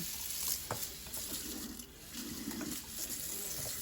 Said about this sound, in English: And then I'm going to rinse them.